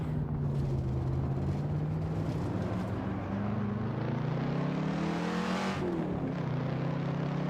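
Car engine in the racing game Dirt droning steadily through the gears, pitch climbing slowly, dipping at a shift, then rising again, a continuous moderate roar with no voices.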